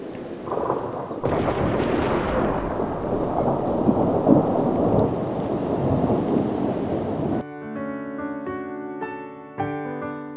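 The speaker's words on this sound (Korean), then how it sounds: "천둥 번개를 동반한 비가 무섭네요" Thunderstorm on the grasslands of western China, with heavy rain hissing and rolling thunder building loud and close, then giving way to music in the last few seconds.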